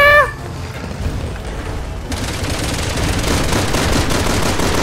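Loud gunfire rattles in Resident Evil 6 during a boss fight against a transformed Simmons, beginning with a short sharp blast and then settling into sustained, rapid automatic shooting that continues to the end.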